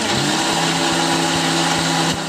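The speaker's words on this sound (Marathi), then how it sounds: "आता मी गहू काढून घेते मिक्सरच्या" A mixer grinder whirs continuously at high speed, a loud, even motor whine coarsely grinding wheat without a break.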